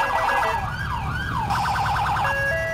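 A fire truck siren in the video game GTA IV wails in long rising and falling sweeps, then switches to a rapid yelp, loud and close over a low engine rumble.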